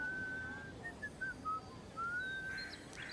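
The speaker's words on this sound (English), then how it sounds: "Tuneless whistling is that, apparently." A character in the video game Avowed whistles tunelessly, a thin, wavering whistle of short broken notes then one longer rising one, over a quiet ambient background.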